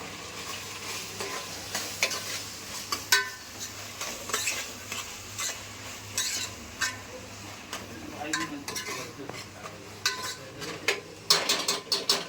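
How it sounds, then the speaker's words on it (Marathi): Chopped onions frying in a pan with garlic-ginger paste and mint, a steady sizzle broken by frequent spatula stirs and metal scrapes against the pan, close and moderately loud. "कांदा थोडा लाल होईपर्यंत थोडं परतवून घेऊया."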